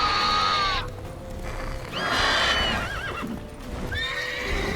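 A horse in The Witcher 3: Wild Hunt video game whinnies several times in a row, high neighs rising and falling, with soft hoof clip-clops underneath and no talking.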